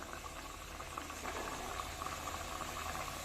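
Pieces of wheat flour dough for khajur fry in moderately hot oil. They give a continuous bubbling, boiling-like sizzle with light rattling crackle at a steady, moderate level, and no one speaks.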